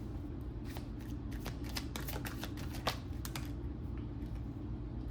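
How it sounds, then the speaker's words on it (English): A deck of tarot cards is shuffled during a pick-a-card reading, giving a fast, continuous riffle of crisp card snaps close by, with no one speaking. "I'm going to shuffle and then reveal what Spirit says."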